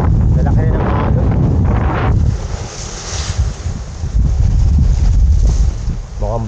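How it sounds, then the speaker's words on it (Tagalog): Big sea waves and gusty wind surround a small fishing boat off Quezon, with heavy buffeting wind noise on the microphone and rushing water throughout, loud and close, while people talk briefly near the start. "Lalaki na ng alon."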